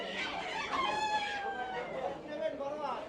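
At a village market a rooster crows once, loud and near, with a drawn-out rising and falling call while people talk nearby.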